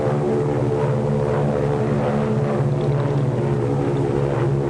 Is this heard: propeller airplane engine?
yes